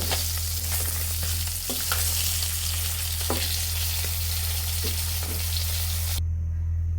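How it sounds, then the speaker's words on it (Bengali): Sarpunti fish frying in hot oil, a loud continuous sizzle with crackling pops and occasional stirring clatter throughout, cutting off abruptly near the end. "আমাদের মাছটি ভাজা হয়ে গিয়েছে এখন আমরা মাছটি নামিয়ে নেব"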